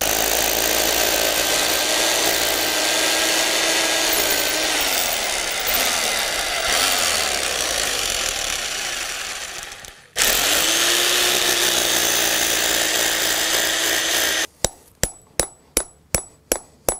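Power drill boring holes into a sliding aluminium gate's threshold for wall plugs, a long loud grinding run with a brief pause, then a rapid series of sharp knocks at the end.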